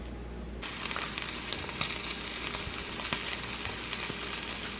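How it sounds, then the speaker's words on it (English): Garlic and marinara sauce sauté in a frying pan with a quiet, continuous sizzle and small crackling pops that go on steadily without any talk. "I'm adding a little bit of marinara sauce to the frying pan. I just saute it."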